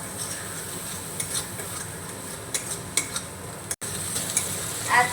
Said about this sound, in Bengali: এবার নাড়াচাড়া করে সমস্ত উপকরণ একসঙ্গে একটু কষিয়ে নেব